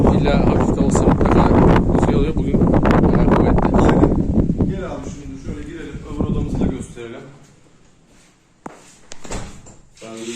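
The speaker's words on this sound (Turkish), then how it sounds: "Hep rüzgar var değil mi böyle?" Strong wind at a village house in Lapseki, Çanakkale, Turkey buffets the microphone with a loud, rough rush, easing off partway through as voices and a few knocks come through.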